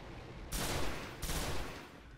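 Gunfire in the video game Destiny, two dense bursts of rapid shots each lasting under a second, loud and close against a steady background of game noise.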